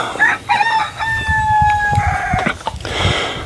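Backyard chickens vocalizing at close range and fairly loud: a hen's drawn-out, rising squawk and crowing-like call over a bed of clucks, with other birds and outdoor noise around it.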